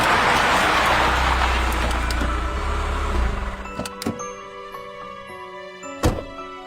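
A car slowing and pulling over by the roadside, loud engine and road rumble fading out, followed by a couple of door thunks and quiet mechanical clicks.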